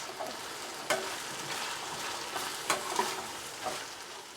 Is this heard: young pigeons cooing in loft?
no